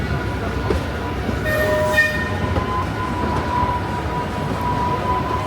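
A roller coaster train rumbles along the rails at Blackpool Pleasure Beach with a steady, close roar at night, and faint horn-like tones ring out briefly partway through.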